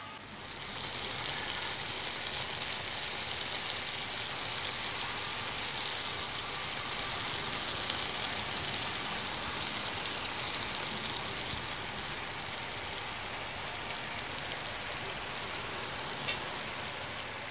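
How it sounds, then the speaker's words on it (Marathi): A masala-coated egg fries in a hot pan, giving a steady, fairly loud hiss and crackle that runs without a break and without voices. "तर आता आपण हे अंडं आहे ना फ्राय करायला सोडूया."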